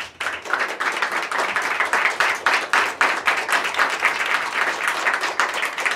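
Audience applause at a beatbox battle in Japan, a loud, dense crowd clapping that runs steadily for several seconds with no speech over it.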